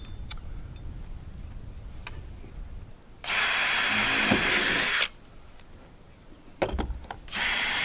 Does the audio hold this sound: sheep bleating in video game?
no